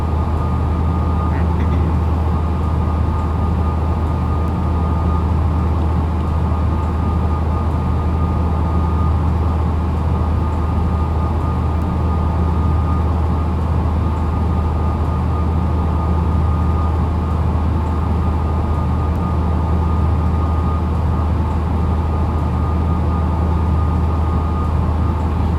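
A DB BR 101 electric locomotive runs on the Kassel to Würzburg line in a train simulator game, a steady loud mechanical hum and rumble with a constant tone throughout, no voices.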